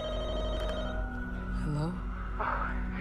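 A telephone rings inside The Walking Dead: Michonne video game, a short electronic tone with a falling warble, moderately loud over steady game background hum.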